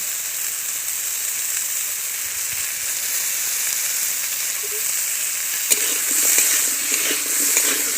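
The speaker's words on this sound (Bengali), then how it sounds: "বেটে রাখা আদা রসুন দিয়ে দিচ্ছি" Ginger garlic paste frying in a hot pan, giving a loud, steady, close sizzle throughout, with a few light stirring clicks and scrapes toward the end.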